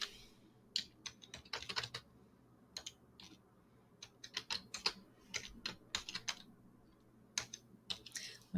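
Someone types on a computer keyboard nearby, producing quiet, uneven bursts of crisp key clicks separated by short pauses.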